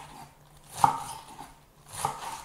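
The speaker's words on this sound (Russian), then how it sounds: "Нарезаю капусту." A knife chops Chinese cabbage on a board, giving two crisp, separate cuts about a second apart, close and fairly quiet against a still kitchen background.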